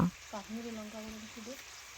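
Mutton curry sizzling as it fries and is stirred in a pan, a soft, steady crackle with a few stirring scrapes beneath someone speaking.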